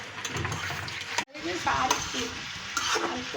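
Teasel gourd pieces tipped into hot oil for a Bengali fry, setting off a loud, steady sizzle with stirring scrapes and a brief sharp dip in the middle before the frying roars back.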